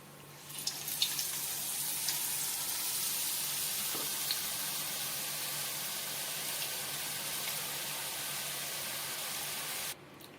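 Kara boondi batter of gram flour and salted water dropping into hot oil, giving a steady, hissing sizzle that holds evenly, with a few faint clinks, then cuts off abruptly near the end.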